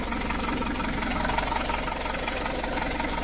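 A rusty Citroen BX engine idles steadily and close by, a continuous low rumble with a faint mechanical knock running through it, no voices.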